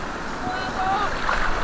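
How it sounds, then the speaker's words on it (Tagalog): Big ocean waves wash around a fishing boat at sea, a continuous rushing surge with wind buffeting the microphone, while a voice speaks briefly over it. "Sobrang lalaki ng alon."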